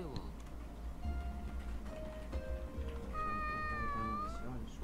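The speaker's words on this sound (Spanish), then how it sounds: "¿Qué maullido tan extraño?" Strange cat meows in the video game SAO Alicization Lycoris, several drawn-out tonal cries rising over a steady game background, with a voice talking at times.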